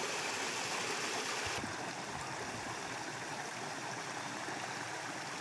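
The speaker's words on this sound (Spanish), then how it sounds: "El arroyo viene por ahí, de la montaña." Mountain stream water rushing along a canal toward an old watermill in Asturias, a steady close broadband gush and trickle that shifts slightly in tone partway through, continuous with no talking.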